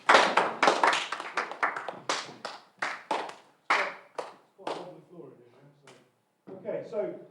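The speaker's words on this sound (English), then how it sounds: "Give a round of applause." A small workshop group clapping after a lighting exercise, a run of uneven, fairly close hand claps that thin out and fade into scattered taps with a short pause near the end.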